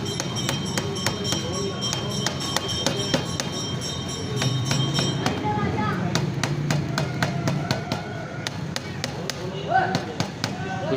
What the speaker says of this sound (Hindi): रबर हैमर मारेंगे, ठीक है, ये अपनी जगह छोड़ना शुरू करेगा।